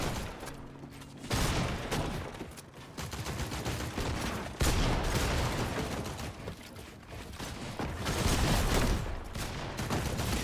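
Assault rifle fire in Fortnite, with rapid bursts of shots crackling in clusters over a busy mechanical background, loud and close, separated by short pauses between firefights.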